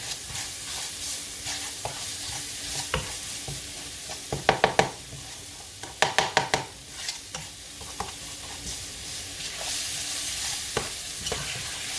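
Vegetables sauté in oil for a vegan cornbread dressing, a steady sizzle running throughout, with bursts of utensil clatter and stirring scrapes around the middle and fainter taps near the end.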